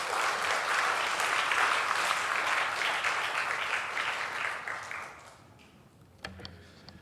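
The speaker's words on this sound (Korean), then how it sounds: "우리 뜨겁게 박수하면서 맞이하겠습니다" A church congregation at a Friday worship service claps warmly in sustained applause that gradually thins and fades out after about five seconds, leaving a few faint knocks and rustles.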